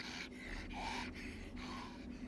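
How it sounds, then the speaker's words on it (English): Heavy, sickly breathing of a diseased monster from the game Hunt: Showdown: three or four slow, rasping inhale-exhale cycles, close and fairly quiet, with no other voices. "We went a little more into this sickness and illness, like heavy breathing."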